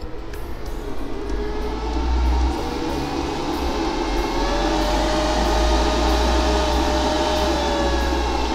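The cooling fan of a JFA Storm automotive power supply spins up into a loud, continuous rushing whir with a steady droning roar and no talking.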